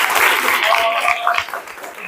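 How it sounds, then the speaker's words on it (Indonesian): Applause in a classroom or teacher event, a dense broadband patter of many hands clapping steadily throughout, loud and close, with some voices mixed in underneath. "tepuk tangan dong."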